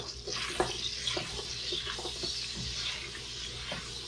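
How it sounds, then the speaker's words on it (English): Chopped garlic stirred in a hot pan for a cherry tomato pasta sauce, a close, steady sizzle broken by a few soft scraping clicks of the spoon. "give it a little stir"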